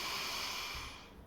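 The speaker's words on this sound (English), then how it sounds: "Breathing in a different way." A person breathes steadily and deliberately to slow the heart rate, a continuous airy hiss of drawn breath close to the mic that holds level and then eases off slightly toward the end, with no talking.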